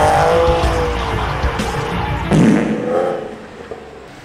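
A 2012 Infiniti G37s coupe drifts with a loud engine roar and a drawn-out tire squeal and skid, close up, then fading; no talk.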